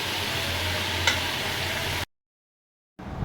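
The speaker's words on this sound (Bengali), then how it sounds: "আলু ভেজেছি, বাদাম ভাজছি" Peanuts frying in a pan give off a steady, dense sizzle with faint crackles for about two seconds, then cut to silence before the sizzle briefly resumes.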